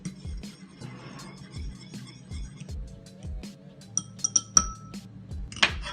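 Miso soup made with boiling water is stirred in a bowl, giving repeated light clinks of a utensil against the dish in an uneven rhythm, with a few sharper taps near the end and a low background hum.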